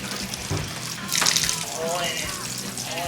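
Water poured from a tap into an Xbox 360 console with a red ring of death fault, a running splash that swells midway, with someone talking over it.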